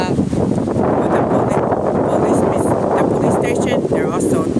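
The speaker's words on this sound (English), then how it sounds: "it's so windy here" Strong wind buffets the microphone in a dense, continuous roar of gusts on a stormy street, with a voice talking over it.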